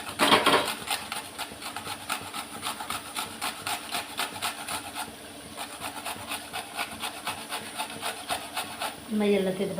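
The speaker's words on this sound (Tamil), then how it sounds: "என் மாதிரி துருவிக்கிறேன் எல்லாத்தையும்." Food being grated by hand in a home kitchen, a fast run of regular rasping strokes, loud and close, with a brief pause midway and a clatter at the end, no talking.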